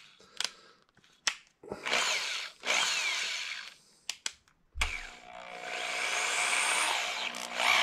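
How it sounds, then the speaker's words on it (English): A drill fitted with a small Dremel sanding bit whirs in short bursts, stopping and starting several times before running in a longer, steady grinding stretch, fairly close. "I've just got this little kind of Dremel sander bit, if you will, that I'm just gonna use in my drill"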